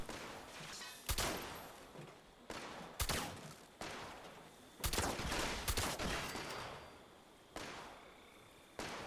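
Gunfire from other players in Fallout 76, a series of sharp, distant-sounding shots and short bursts spaced irregularly, each followed by a fading echo.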